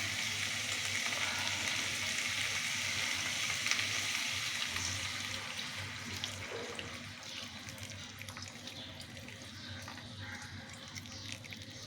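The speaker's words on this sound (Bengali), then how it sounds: "এবার একটু জল দিয়ে দেবো, বেশি না" Water poured into green peas frying in oil in a pan gives a loud sizzle up front that settles into a softer, steady bubbling hiss with occasional stirring.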